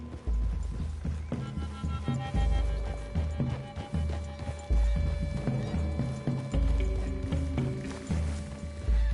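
Steady clip-clop of horses trotting, a repeating rhythmic hoofbeat over a low rumble, with a horse whinnying amid the game's ambient sound.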